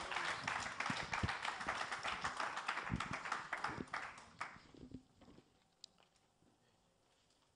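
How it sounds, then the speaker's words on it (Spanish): A church congregation claps in praise to God: dense, loud applause for about four seconds, then thinning into scattered claps and quiet. "Dele un aplauso a nuestro Dios, que Él vive para siempre."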